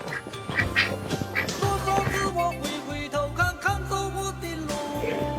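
A duck at a rural village home quacks repeatedly and loudly up close, with rapid, uneven bursts of honking calls.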